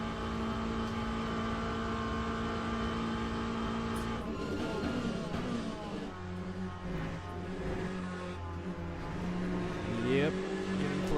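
A race car in the Le Mans Ultimate racing game drives down a straight, its engine a steady, loud drone with shifting pitch and brief gear changes, while someone talks over it.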